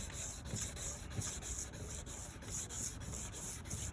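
Steady rubbing and abrasive scrubbing on the yellowed plastic headlight lens of a 1999 Beetle, polished with Turtle Wax compound, in continuous close strokes with a faint rhythmic pulse throughout.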